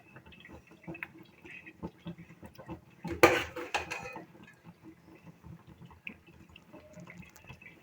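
Afghani chicken karahi is scooped from the pot into a serving dish, with soft clinks of a utensil against metal and a brief cluster of louder scraping and clattering in the middle, faint and close.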